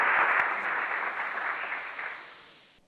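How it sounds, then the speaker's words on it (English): Audience applause at a virtual tour event for Southern Thailand Science Park, a dense burst of clapping that starts loud and fades away over a few seconds. "Please join me to give her a big round of applause."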